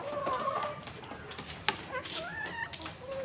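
Native Karinkozhi black chickens and Gramasree hens cluck and chatter nearby in a poultry shed, with rising calls, a sharp peck or knock in the middle and a soft background murmur.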